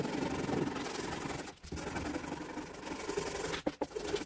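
Steady, coarse rubbing of the coarsest-grit sandpaper on a steel hammer, continuous strokes close by with a brief pause partway and a few quick scrapes near the end.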